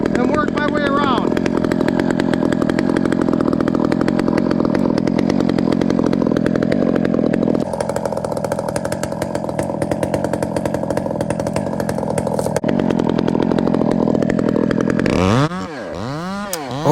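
Chainsaw cutting wood during tree felling on a windy day, the engine droning loud and steady throughout, then revving up and down in sharp surges near the end.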